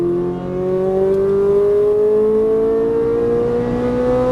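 Ferrari 458 Italia V8 engine pulling hard under throttle on a track, a loud close tone climbing steadily in pitch over several seconds with rich harmonics, no gearshift break and no talk.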